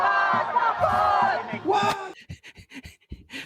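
Protesters opposing a political meeting shout slogans as a loud, massed crowd roar for about two seconds, then break off into choppy individual voices and talking.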